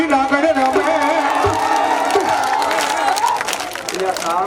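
An audience claps along in rhythm at a Meldi Ma mandvi devotional gathering, the steady clapping and crowd noise blending with loud amplified singing and voices throughout.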